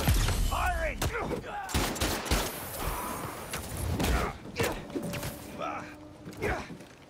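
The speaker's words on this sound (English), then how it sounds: "Stop shooting at me." Gunfire in the Spider-Man 2 video game during a prisoner escape: bursts of shots and rapid fusillades crackle over several seconds, mixed with scuffling and game effects.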